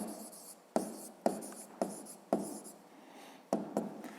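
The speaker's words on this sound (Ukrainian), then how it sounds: "Так, це ми записали." A pen writes a math answer on paper in a quiet room, with a series of short scratchy strokes and taps at an uneven rhythm, close and fairly soft.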